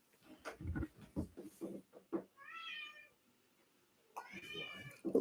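A house cat meows twice indoors, drawn-out tonal cries separated by a short pause, heard close after a stretch of someone talking.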